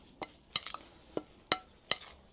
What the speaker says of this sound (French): Donc, on mélange grossièrement.